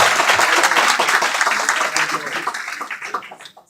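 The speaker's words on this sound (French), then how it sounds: "bon applaudissement" Applause from a church congregation, dense clapping that runs steadily and gradually thins toward the end, with faint voices mixed underneath.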